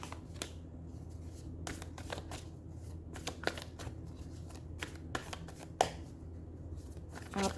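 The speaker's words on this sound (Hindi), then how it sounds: "शफल करके बैक रख देती हूँ इसको।" Oracle cards are shuffled by hand close up in a series of quick, crisp riffles and slaps spread over several seconds, quiet and alone with no talking.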